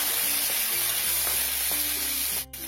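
A handful of soaked raw peanuts fry in hot oil, giving a steady, close sizzling hiss throughout with a brief drop near the end and tonal music underneath.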